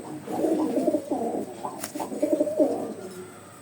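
Close, steady pigeon cooing, a series of throaty, rolling coos in short phrases with a brief pause in the middle and no talking.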